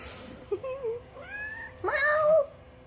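A domestic cat, agitated with ears pinned back, gives two close, clear meows, the second longer and rising, with faint background noise in between.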